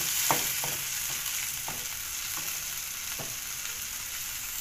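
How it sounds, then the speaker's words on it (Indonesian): Spice paste sautéing in a wok with pandan, bay and curry leaves gives a steady close sizzle, with a few soft stirring scrapes at intervals and no talking. "Tambahkan sebagian bumbu halusnya ke wajan untuk ditumis"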